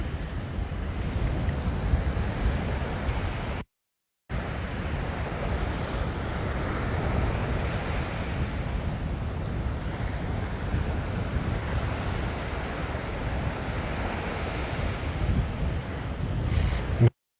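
Wind and waves roll in at Lanikai Beach, Oahu, at sunrise. Steady surf washes under heavy wind buffeting on the microphone, loud and continuous apart from a brief dropout.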